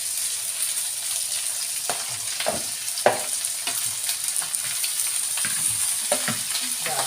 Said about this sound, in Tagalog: Lagyan na natin yung bitukan natin,